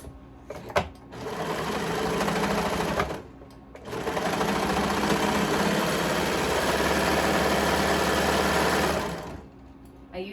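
An electric sewing machine stitches clothing in two sustained runs, a brief pause between them, its steady whirring drone close and loud with no talk over it.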